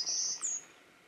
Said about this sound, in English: Just singing away. Gorgeous little bird. Definitely see where he gets his golden-cheeked name from.